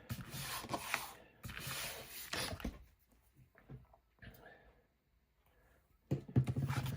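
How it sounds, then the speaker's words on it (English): A glued paper greeting card being rubbed by hand from the reverse side, giving soft, dry scuffing strokes in a few bursts separated by quieter gaps, close up with no talk. "just give that a rub from the other side as well"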